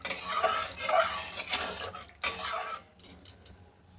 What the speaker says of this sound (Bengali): একটু নেড়ে চেড়ে ফুটিয়ে দিই।